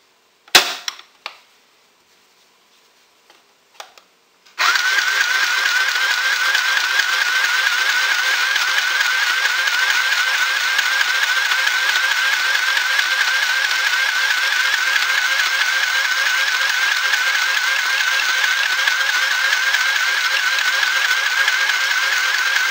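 An electric sewing machine stitches an aquarium filter sock, running as a loud, continuous rapid whirring hum for nearly twenty seconds, after a few brief clicks and handling sounds at the start.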